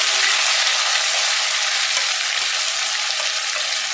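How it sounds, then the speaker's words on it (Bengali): Fish fat coated in salt and turmeric sizzles and fries steadily in hot oil in a pan, a dense, close, continuous crackle with no talk. "এবার আমি মাছের তেল পটকাটা দিয়ে দেবো। লবণ হলুদ মাখিয়ে রেখেছিলাম, এটা আমি দিয়ে দেবো, দিয়ে ভাজা ভাজা করবো"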